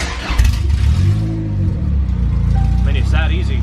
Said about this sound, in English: Now you just hit that button and it'll start.